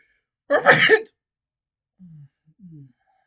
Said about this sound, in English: I was going to pause the video, but the sneeze came out.